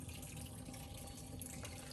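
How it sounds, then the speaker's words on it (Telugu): Soapy water drains out of a compact washing machine as a faint, steady trickling and rushing flow, continuous and quiet with no talking. "ఇప్పుడు సైకిల్ అయిపోయాక ఈ వాటర్ అంతా డ్రైన్ చేసేయడానికి ఇదిగోండి ఈ బటన్"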